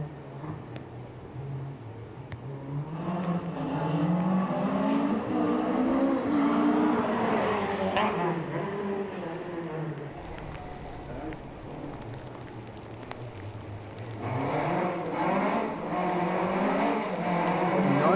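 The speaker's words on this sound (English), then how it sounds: "I think that's another six-figure Mark II Escort." A Mark II Escort rally car blasts past at speed on a Circuit of Ireland stage at Newtownards, its engine note rising and falling over a sustained loud roar with revving as it goes by and returns, with voices faintly underneath.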